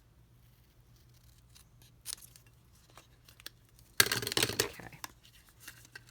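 Scissors trim paper for a Halloween-themed Stampin' Up! mini hand sanitizer box, with quiet snips and rustles building to a burst of crisp cutting and crinkling, and a brief spoken word.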